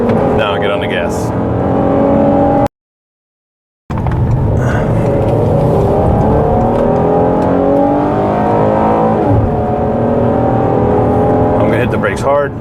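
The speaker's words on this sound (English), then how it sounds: "Now I get on the gas." A Ford Police Interceptor Utility in pursuit mode accelerates hard after heavy braking, its engine note climbing steadily through the gears, loud and close, with a short break in the sound partway through.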